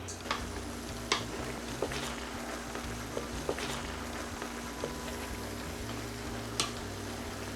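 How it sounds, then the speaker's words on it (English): Oxtail pieces frying in hot oil in a kitchen pot, a continuous low crackle and sizzle with occasional sharp pops and clicks over several seconds, no talking. "I let the oxtail fry up for 15 minutes"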